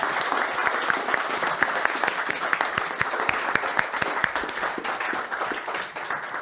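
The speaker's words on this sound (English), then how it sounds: "Another big round of applause to the governing board." A conference audience gives a governing board a big round of applause, a dense, even clatter of many hands that holds steady throughout with a slight dip at the end.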